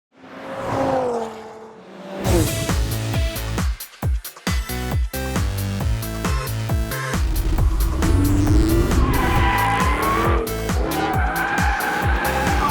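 Rear-wheel-drive Jaguar F-Type P450 with its V8 engine pulls hard around a racetrack, the engine loud and close as it revs through gears and shifts while the tires squeal and scrub through the corners, with no talk.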